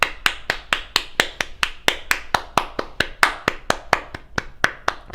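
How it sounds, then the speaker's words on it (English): Applause for Stacey Abrams, a steady run of sharp hand claps at an even, quick rhythm, close and loud, with no talking. "So let's give her a round of applause."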